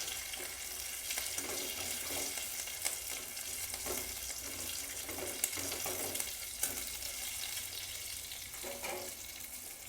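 Chopped green chillies fry in oil in a pan while Bathua greens are being cooked, a faint continuous hiss and crackle with occasional soft clicks, no talking.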